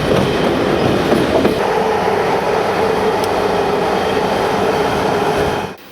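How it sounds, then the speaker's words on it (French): A D397 diesel-hauled passenger train runs on a single-track electrified line between Zagreb and Sarajevo, a loud steady rumble of wheels on rails with faint clatter, heard from on board until it cuts off. "Nous roulons sur une voie unique électrifiée."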